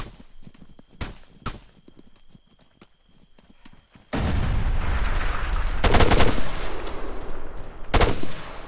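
Gunfire in the military video game Arma 3, a machine gun firing at long range: scattered sharp shots at first, then dense loud bursts with sustained rattling.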